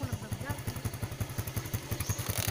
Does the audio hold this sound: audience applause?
no